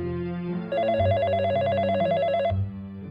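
A telephone rings on an anti-fraud hotline staffed by a duty officer: a single electronic ring burst of rapid warbling tones, clear and close, following a low hum and fading after about two seconds.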